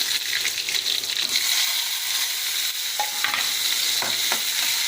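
Onion, dried red chillies and mustard seeds fry in hot oil with a loud, steady sizzle, while a spoon stirs and scrapes through the pan in a few brief strokes close by.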